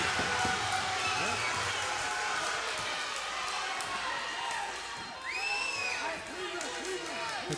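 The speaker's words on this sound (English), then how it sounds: "The crowd up on their feet as both fighters are really trying to win this last and final round." Boxing crowd cheering and roaring through the final round of a Friday Night Fights bout, a dense, steady wall of noise with whoops and shouts rising above it, heard along with commentary.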